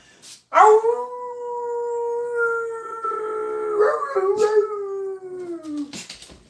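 A dog howls in one long sustained, wavering call that rises, holds and slowly slides down in pitch, close and fairly loud, with a short bark-like yip at the start and a brief break partway through.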